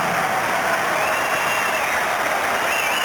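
A packed indoor pool crowd at the 1990 Commonwealth Games claps a swimmer home in the final sprint, continuous dense applause with light cheering and crowd noise underneath, steady and loud.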